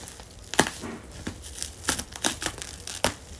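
Sewing machine packaging is torn open by hand during an unboxing, with a series of close, sharp rips and crinkles of plastic and paper at an irregular pace and no talking.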